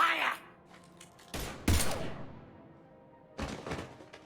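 Gunfire erupts in Mass Effect 3, a couple of heavy blasts and thuds arriving in short bursts, loud and close, separated by quieter stretches of lingering game ambience.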